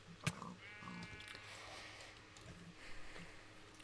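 A few short video game sheep bleats ring out among game sound effects, with a sharp click or thump near the start.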